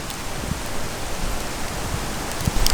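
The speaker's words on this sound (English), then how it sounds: "it's hailing out here" Hail falls outside in whiteout conditions, a dense, even hiss of small ice pellets pattering continuously, close and fairly loud, with a few sharper taps.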